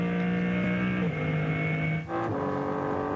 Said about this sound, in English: listening in to what is effectively still the BMW M4 GT3 turbocharged engine